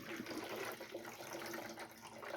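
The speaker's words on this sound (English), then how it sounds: "I'm going to dump the water out first," Water poured and splashing out of a '51 Chevy truck heater core during repair, a steady continuous gushing and trickling close by with no talking.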